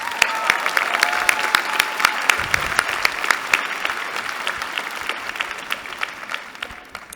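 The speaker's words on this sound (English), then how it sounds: "Let us give them a big round of applause." Audience applause at an MBA commencement ceremony, a steady, dense wash of many hands clapping with sharp individual claps standing out, fairly loud and continuous throughout, no talking over it.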